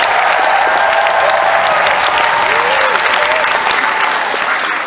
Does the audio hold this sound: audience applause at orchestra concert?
yes